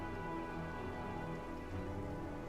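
Rainfall in the video game Divinity: Original Sin, a steady, even hiss of rain on surfaces, constant and moderately loud with no voices.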